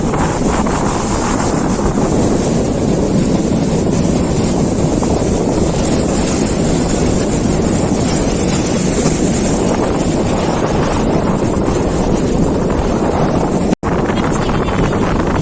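Steady roar of wind buffeting the microphone over continuous surf on a beach at Tajpur, loud and unbroken throughout, with no voices.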